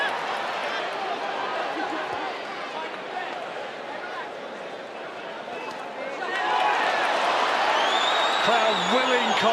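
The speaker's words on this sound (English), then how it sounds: "Crowd willing Conlan on." Boxing crowd noise during the Jamie Conlan vs Jerwin Ancajas fight, a steady arena roar that swells louder partway through as spectators urge Conlan on, with commentators talking over it.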